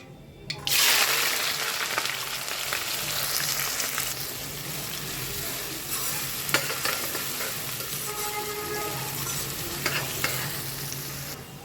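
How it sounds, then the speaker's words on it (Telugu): Mustard seeds popping in hot oil with onion and green chili frying for crab curry, a loud hiss starting abruptly, then steady sizzling with scattered pops and stirring scrapes, no talk. "ఆయిల్ కాగిందండి ఆవాలు వేసాను పేలుతున్నాయి ఇప్పుడు ఉల్లిపాయ పచ్చిమిర్చి"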